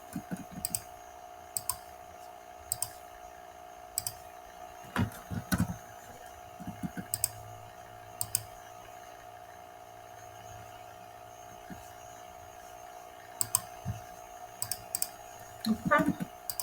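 Computer mouse clicks while working in Archicad, scattered sharp taps in small bursts over a steady electrical hum, close but faint, with no other prominent sound.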